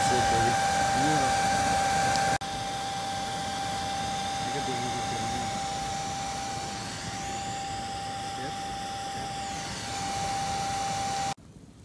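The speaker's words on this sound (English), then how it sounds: "Got the blower cranking up the heat." A blower roars steadily, fanning a wood fire built to melt aluminum. The airy rush runs loud and constant, shifts level a little after the start, and cuts off abruptly near the end.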